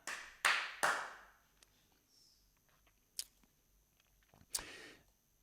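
A few sharp hand claps and taps sound close up in a quiet room, the first two strongest and followed by fainter clicks.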